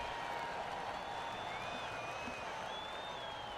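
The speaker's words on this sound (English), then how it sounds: "Damn, the crowd is loud." Golf gallery crowd noise from the PGA Tour 2K23 video game, a steady, loud wash of applause and murmuring cheers filling the whole stretch without a break.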